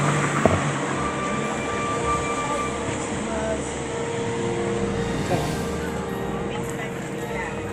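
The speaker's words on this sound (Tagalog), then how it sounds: "Ang walang tigil na tunog ng andar ng makina." A loud generator engine at Villar City Heritage Tree, Philippines drones without pause, a constant rumbling hum with faint voices mixed in.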